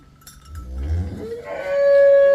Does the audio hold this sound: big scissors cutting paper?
no